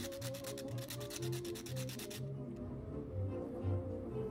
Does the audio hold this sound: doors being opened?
no